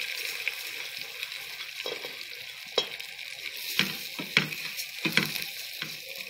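Vermicelli frying in a pan of butter and ghee, a soft continuous sizzle broken by intermittent scraping stirs, close and fairly quiet, with no talking.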